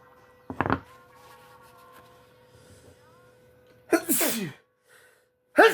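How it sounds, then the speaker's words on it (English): Two sharp sneezes, one near the start and another a few seconds later, each loud and close against a quiet room with a faint steady hum, followed by a brief breathy sound at the very end. "Oh, sneezing and adjusting my camera at the same time."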